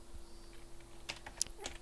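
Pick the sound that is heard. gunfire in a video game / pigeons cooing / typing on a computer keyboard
typing on a computer keyboard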